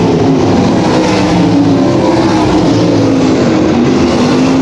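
Sprint cars race flat out around the Can-Am Speedway oval, a loud, continuous engine roar with pitch shifting as the cars pass through the backstretch, with no voices over it.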